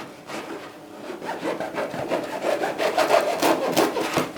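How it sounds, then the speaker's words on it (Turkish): A knife saws through a small sandwich loaf in steady back-and-forth strokes, giving a close, rasping, crumbly scrape that grows slightly louder toward the end, with no voices. "Ekmeğimizi kesiyorum."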